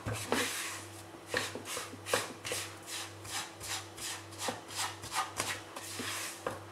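Rava, milk powder and cardamom powder are stirred together for a sweet, giving repeated rhythmic dry scraping and rubbing strokes, fairly close, over a low steady hum.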